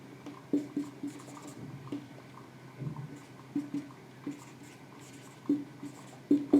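Pen or marker strokes writing out Euclid's division lemma by hand, capital letters included, as irregular short scratchy taps and strokes, close and fairly quiet, with no talk.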